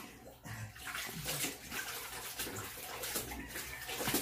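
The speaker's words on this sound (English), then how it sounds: "This is the way how to wash the clothes in the Philippines." Clothes washed by hand in a basin of water in the Philippines: steady sloshing, rubbing and splashing close by, continuous for several seconds with faint birds in the background.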